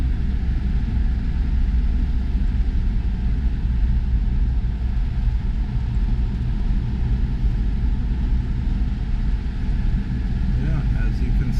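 A Toyota truck built as a Back to the Future tribute runs and drives, its engine a steady, loud rumble with constant road and wind noise throughout.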